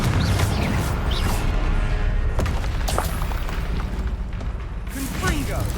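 Repeated Confringo blasting-spell explosions in Hogwarts Legacy during a troll fight, loud booming bursts layered over dense battle noise and whooshes, with a voice calling out over the action.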